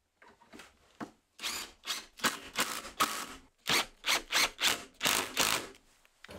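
A power drill drives screws through a thin wooden jaw into the back of a workbench, giving a string of short, loud whirring bursts in an uneven rhythm, close up with no talking.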